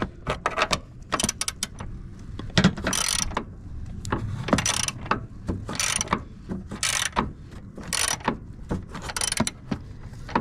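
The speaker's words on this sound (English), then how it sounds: "we could go ahead and loosen these last bolts up" Hand ratchet loosening bolts while lowering a Subaru Impreza, bursts of rapid clicking repeated in short strokes with pauses between, close and fairly quiet with some workshop clatter.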